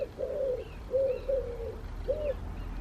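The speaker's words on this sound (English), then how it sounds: "The birds are being absolutely mental." Pigeons coo in repeated low, rounded phrases close by, with higher bird chirps in the background, on a summer day outdoors; the cooing comes in three bursts over steady ambient noise.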